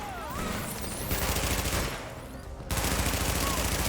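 Gunfire from The Division video game rattles in dense, rapid bursts of automatic fire, loud and close, with brief pauses between volleys.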